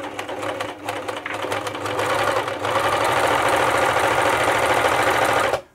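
An Elna T34D serger overlocker runs fairly slowly and steadily with a busy mechanical whir and chatter, close and loud. It speeds up a little partway through, then stops abruptly.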